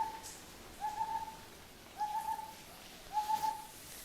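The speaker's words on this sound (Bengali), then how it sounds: "এই যে ডাকছে, পাখির আওয়াজ বুঝতে পারছে বন্ধুরা।" Birds call from trees beside a balcony: three clear, repeated whistled notes about a second apart, moderately distant over a quiet background hiss, with no talking.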